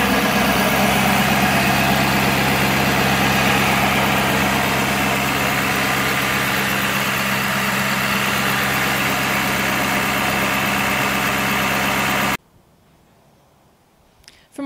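A Ford F250 pickup's 6.7-liter V8 idles steadily with a deep, even rumble, loud and close, then cuts off abruptly near the end, leaving near silence.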